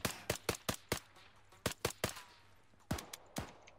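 Gunfire in the military shooter game ArmA 3 comes as a quick string of sharp reports, then pauses and resumes in short irregular clusters, at moderate distance and fairly quiet, with no talk.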